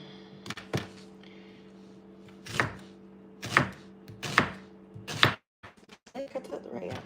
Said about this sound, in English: Make sure you cut things properly so that they come out right. I like thin onions.